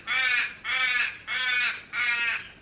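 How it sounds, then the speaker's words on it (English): A crow caws four times in a slow, even rhythm, each harsh call loud, close and clear against a quiet background. "that crow is incredibly noisy"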